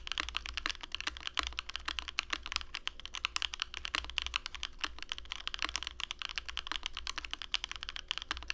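Typing on a DR-70F mechanical keyboard fitted with case foam, a dense fast stream of crisp clicky keystrokes, close and continuous throughout, with no talking.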